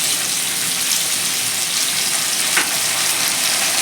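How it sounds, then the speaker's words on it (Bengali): Soaked whole chickpeas go into a hot pan for a vegetarian potato, pumpkin and pointed gourd chokka, setting off a loud, steady close-up sizzle with a brief clatter partway through. "গোটা ছোলা আমি আগের যে ভেজানো ছোলাটা আমি দিয়ে দিলাম"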